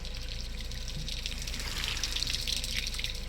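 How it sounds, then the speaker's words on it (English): Water falls and trickles onto a metal grate in a video game dungeon scene, a steady splashing patter with brighter droplet hits building slightly midway. "I actually designed the sound effects for everything. The water falling on the grate."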